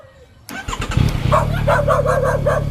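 A Yamaha MT-09 motorcycle with its stock exhaust pipe fires up after a short quiet moment. It catches abruptly and settles into a loud, steady, throbbing idle close by.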